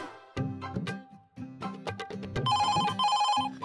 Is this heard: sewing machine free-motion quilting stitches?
no